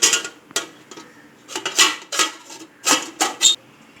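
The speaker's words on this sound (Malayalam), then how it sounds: "അപ്പോൾ നമ്മളിനി ഒരു അപ്പച്ചമ്പ് അടപ്പത്ത് വെക്കുകയാണ് വേണ്ടത്." An appam steamer pot is set on a stovetop and water is poured in, giving a series of close metallic clanks and scrapes of steel cookware with short gaps between them, and no one speaks.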